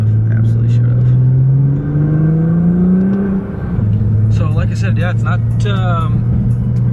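A Nissan GT-R fitted with a 3.5 inch exhaust accelerates onto a highway, its engine drone rising steadily in pitch, dipping briefly at a shift, then climbing again under someone talking from inside the car.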